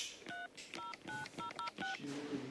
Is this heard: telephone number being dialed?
yes